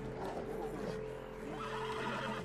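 A horse in Red Dead Redemption 2 gives a brief whinny over a steady background of game ambience.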